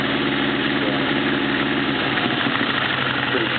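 A Honda CB650 motorcycle engine idles after a carburetor clean and oil change, with a close, loud, steady four-cylinder putter and faint mechanical tapping, and a voice heard briefly over it.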